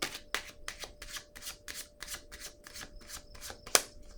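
Tarot cards shuffled by hand in a steady run of soft riffling swishes, about ten quick bursts, close and quiet with no talk, ending in a sharper snap as a card is drawn.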